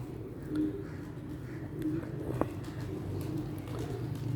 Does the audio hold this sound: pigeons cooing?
yes